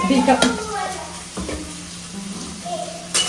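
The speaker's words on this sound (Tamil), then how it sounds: "இந்த வெங்காயம் பார்த்தீங்கன்னா நல்லா ஒரு கோல்டன் ப்ரௌன் வர வரைக்கும் நம்ம நல்லா வந்து வதக்கி எடுத்துக்கணும்" Onions are sautéed in oil in a pan until golden brown, with a steady sizzle and occasional stirring scrapes, while a person's voice is heard faintly at the start.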